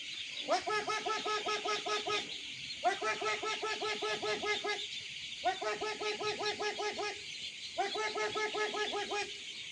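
A voice imitates a mother duck with repeated rapid quacking bursts to call one-week-old ducklings, four similar rounds separated by short pauses, fairly close.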